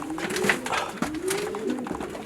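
Pigeons coo repeatedly in low, rolling calls, close by, with flapping and rustling mixed in.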